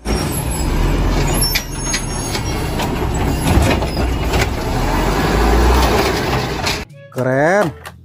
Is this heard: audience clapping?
no